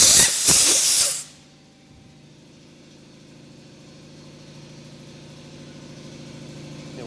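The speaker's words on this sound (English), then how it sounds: "You wait for that compressor to kick off here and we'll see if I can hear any leaks" A loud burst of air hissing from a DIY sandblaster's air compressor line at 60 psi lasts about a second, then drops to a low steady hum of the compressor running alone.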